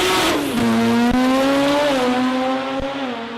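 A sports compact drag car at an Australian drag racing event launches hard with wheel spin, a loud close engine howl rising in pitch through quick revs and brief shifts, with tire squeal mixed in.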